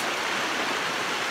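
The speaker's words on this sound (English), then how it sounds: "This river goes really far." A Colorado river flows steadily and close by, a dense, even rush of water with no breaks and no voices.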